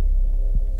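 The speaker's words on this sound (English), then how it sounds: "Could they hear the heartbeat?" A low, muffled heartbeat sound effect throbs under a steady hum in a radio drama, a single soft thump standing out in a short, otherwise quiet stretch.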